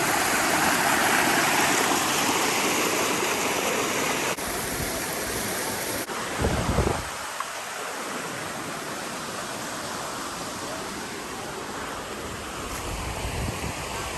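Steady rushing of a flowing river, loud and close, a continuous broadband wash of water with no voices.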